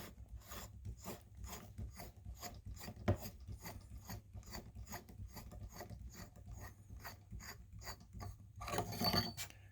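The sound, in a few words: unscrewing the brass inner shaft of a lightsaber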